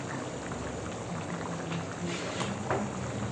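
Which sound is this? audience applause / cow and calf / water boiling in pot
water boiling in pot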